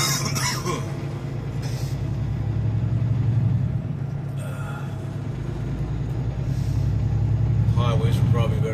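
A truck shunting an empty trailer on a drifting, snowy road, its engine holding a steady mid-low drone with a slight swell partway through, and someone talking over it.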